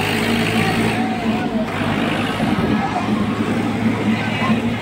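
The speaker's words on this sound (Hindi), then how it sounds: "टेस्ट कर रहे हैं भाई अपने ही ट्रैक्टर से" Sonalika DI 55 and Swaraj 744 tractor engines being tested run in a steady, loud, continuous drone with a low rumble throughout, under a faint background murmur of voices.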